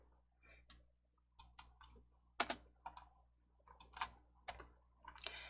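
Keystrokes on a computer keyboard as the letters of DIAT are typed: a short, irregular run of crisp close clicks separated by brief pauses, with no talk.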